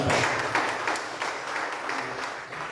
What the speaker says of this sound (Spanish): Por favor, aplausos para nuestra hermana que animaba.